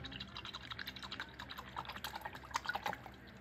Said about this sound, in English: I swirl it around in the water.